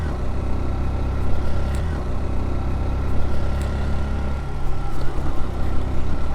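A motorbike engine drones steadily as the rider climbs a hilly road toward Keokaradong, a continuous low rumble heard close up with wind noise and no clear pauses.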